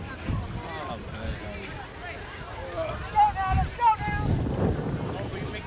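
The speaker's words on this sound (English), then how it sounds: "the wind is definitely picking up" Wind blows outdoors with a steady low roar and microphone buffeting that swells in gusts, while faint voices murmur in the background.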